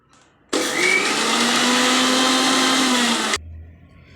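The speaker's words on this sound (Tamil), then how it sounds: "1 டம்ளர் தண்ணி சேர்த்து அரைச்சிக்கோங்க." A kitchen mixer grinder blends lemon, sugar, salt, mint, cashews, ginger and water, running in one loud, steady whir for about three seconds after a quiet start, then cutting off abruptly.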